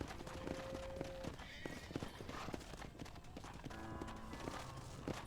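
Horse hooves clip-clop at a walk in the Western video game Red Dead Redemption, irregular quiet thuds over faint background ambience.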